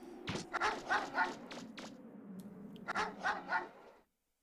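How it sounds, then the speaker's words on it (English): A dog in the PS1 game Mega Man Legends barks in two quick clusters of sharp, yappy barks, close and clear, with a low game hum running underneath. "God, the dog's already after me."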